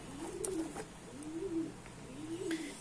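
A tritis pigeon, thin and unwell, coos in three soft, rolling phrases spaced about a second apart, close by and alone with no talking over it.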